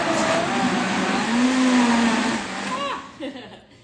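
A blender runs on high speed, wet chopping ingredients for raw vegan sushi, with a loud, close whirring hum that shifts pitch as it works, then winds down and stops near the end.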